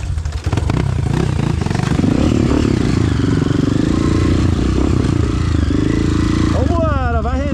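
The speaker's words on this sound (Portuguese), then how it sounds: "Solta essa moto, piloto." A motorcycle climbs a long uphill dirt trail, its engine roaring loud and close with steady revving and clattering, then pitch swoops near the end as it shifts; a rider's voice talks over it.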